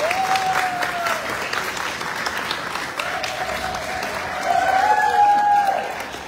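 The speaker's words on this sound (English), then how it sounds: "Please give applause, a big applause for this our friend" Steady, dense applause from a crowd, filling the room throughout and swelling a little near the end, with a bright whistle-like tone cutting through.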